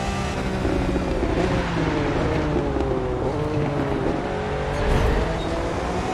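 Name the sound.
car accelerating in the video game The Crew 2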